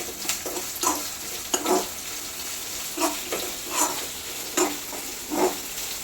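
Two small, finely chopped onions sauté in a pan, crackling steadily while a spatula stirs them in regular strokes about every half second. No one speaks.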